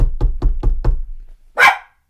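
A dog barks five times in a quick, even series after a knock on a table, then gives one higher, sharper yelp after a short pause, close and loud.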